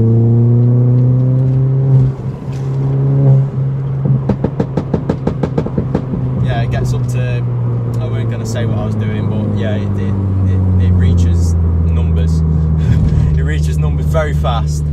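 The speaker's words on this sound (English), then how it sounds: "I'll just put the foot down again. It's fourth gear." A remapped ST car accelerates hard in fourth gear, its engine note climbing in a loud, continuous drone heard from inside the cabin, with a brief burst of rapid pulses and the driver talking partway through.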